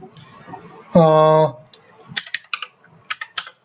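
Keyboard keys clicking in several short bursts as JavaScript code is typed, close and fairly crisp, following a brief sustained tone near the start; no one speaks.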